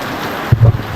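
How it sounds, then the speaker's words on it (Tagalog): Heavy rain pours during days of rainfall that have flooded a house, a dense, steady hiss with low rumbling gusts, close and loud, with no one speaking. "grabe yung lakas ng ulan, no?"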